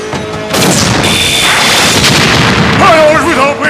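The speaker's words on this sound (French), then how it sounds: "Canon à plasma, feu!" Plasma cannon blasts in an animated battle scene, a loud sustained explosive roar under shouted voices and music, with a bright sweeping whine toward the end.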